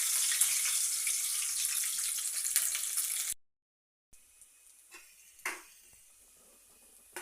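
Garlic and mustard seeds fry in hot oil for a tadka, a loud, steady sizzle that cuts off abruptly, then gives way to faint scattered pops and crackles.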